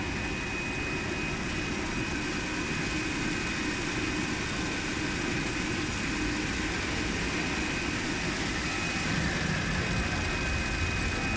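A slitting and rewinding converting machine with a differential rewinding shaft runs in a factory, a steady, broadband mechanical drone and whir that holds constant and fairly loud, with no voices.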